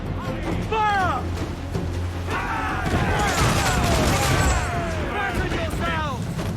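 Ship cannons fire in volleys during a naval battle in Assassin's Creed IV: Black Flag, heavy booms and crashes arriving in waves with shouted crew orders and music layered over them throughout.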